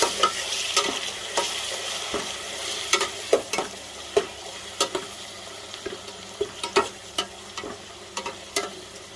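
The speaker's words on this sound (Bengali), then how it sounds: "তো অল্প অল্প গ্যাস এটা দিয়ে রান্না করছি।" Khichuri of soaked rice and lentils cooking in a pot over a low gas flame, with soft, steady bubbling and repeated scraping and stirring clicks, close and alone with no talking.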